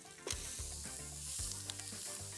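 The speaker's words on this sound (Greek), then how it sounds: "Τις κόβουμε. Ρίχνουμε μέσα στην κατσαρόλα." Potato pieces for a Greek potato stew tossed into a pot of hot oil, raising a soft continuous sizzle with a few quick dropping thuds near the start, quiet and close.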